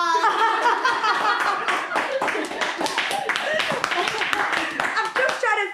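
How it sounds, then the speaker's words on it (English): An audience claps loudly at a live lounge show, the applause dense and continuous, mixed with laughter and voices throughout. "give her a round of applause."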